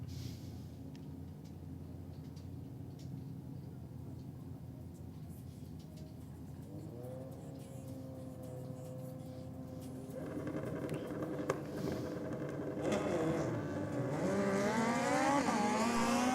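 A Suzuki Hayabusa motorcycle at a drag race, its engine note first low under a noisy background, then climbing into loud, rising revs and sharp wails over the final seconds.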